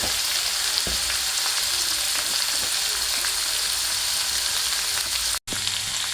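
Drumstick leaves frying in a pan for mulagaku fry, giving a loud, close, continuous sizzle with occasional crackles and scrape-like stirring noises, and a brief dropout near the end.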